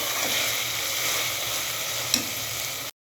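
Small pieces of mutton seekh kabab and tikka hiss into a hot karahi, a dense continuous sizzle with a brief clatter near the end before it cuts off abruptly.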